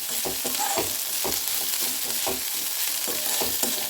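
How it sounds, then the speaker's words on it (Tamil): Fresh beans and onions sautéing in hot oil in a pan, a steady close sizzle with rhythmic scraping stirs throughout and no talking. "இப்போ நம்ம பீன்ஸு சேர்த்து நல்லா காய் நல்லா சுருளை வதங்கணும்"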